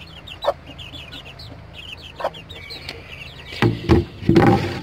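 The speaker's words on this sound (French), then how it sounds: "là on se retrouve avec une poule espagnole avec ses 6 poussins" A Spanish hen clucks softly close by while her six chicks peep in high, scattered chirps, with a few louder rustling bursts toward the end.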